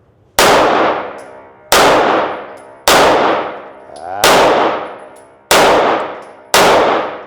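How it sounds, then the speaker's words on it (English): Six loud single shots from a Pitt Viper pistol at a shooting range, each a sharp crack with a ringing decay, spaced about 1.3 seconds apart, close and alone. "I'm shooting the Pitt Viper. This is my personal gun."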